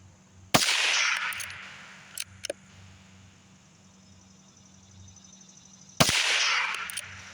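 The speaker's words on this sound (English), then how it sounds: "Always fun shooting stingers." A Rossi RB22 .22 rifle with a 16-inch barrel fires stinger rounds at an outdoor range: two sharp, loud reports about five seconds apart, each with a ringing tail, and faint clinks between.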